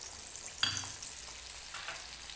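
Pitha batter of rice flour and date jaggery fries in oil with a soft, continuous bubbling sizzle, faint and close, with a couple of light clinks and no speech.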